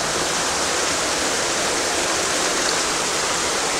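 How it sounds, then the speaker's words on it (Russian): A river pours out of a cave near Mezmai in the Caucasus mountains, making a loud, close, unbroken rush of churning water with no voices. "И вот отсюда вытекает река."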